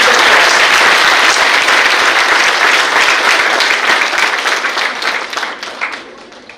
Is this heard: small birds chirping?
no